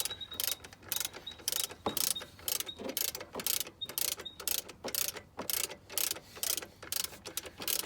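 Rapid ratchet wrench clicking in repeated bursts as an alternator bolt is backed out on a 2000 Subaru Outback, close and steady with no talking.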